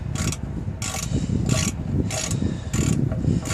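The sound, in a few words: threading oil drain plug back in, Ford Econoline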